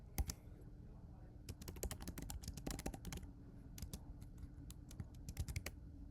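Keyboard typing on a computer while writing code, with irregular bursts of clicky keystrokes, near and fairly steady, plus a few pauses.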